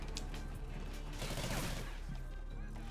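Rapid automatic gunfire in Call of Duty Ghosts, a steady stream of shots over a dense background of game ambience, moderately loud throughout.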